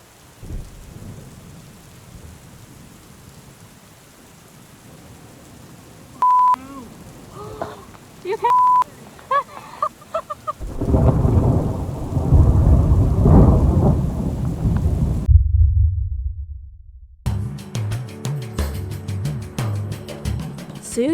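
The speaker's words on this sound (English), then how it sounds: "now we're going to settle down for a very wicked storm tonight" A fierce night thunderstorm builds over a van camp in hilly country: faint early rumbles and scattered drips, then a heavy downpour roars close by, with a sudden cut and renewed rain and thunder near the end.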